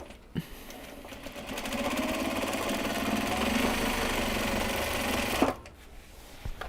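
A sewing machine back-stitches over a seam on a fabric gyoza bag, running as a steady, close, buzzing whir for about five seconds before stopping abruptly, followed by a few small clicks.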